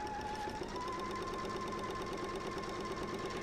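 A sewing machine stitches steadily through layered quilt fabric and batting, a close, even mechanical whir with a fine needle rhythm and no pauses.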